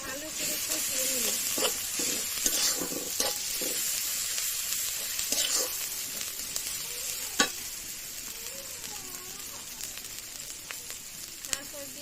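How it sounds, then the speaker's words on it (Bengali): Cumin and garlic paste sautéing in a pan for a soybean curry, a soft continuous sizzle with intermittent scraping and stirring clatter, a few sharper knocks against the pan, fairly quiet. "জিরা বাটা, রসুন বাটা, এটাকে ভালো করে কষিয়ে নিব।"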